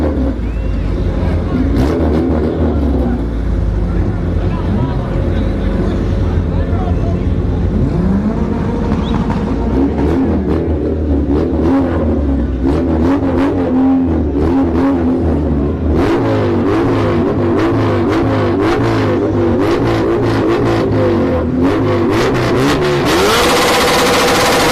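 Drag racing engines roar and rev hard at a no-prep strip, a big-displacement car racing a turbocharged Integra; loud, sustained acceleration with rising pitch and gear changes, crowd and announcer voices mixed underneath throughout.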